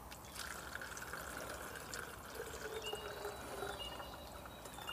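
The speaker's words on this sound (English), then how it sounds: "So we'll just pour a little bit of water in here." Water is poured into a homemade plastic wasp trap, making a faint, steady trickle and gurgle with light drips over about five seconds.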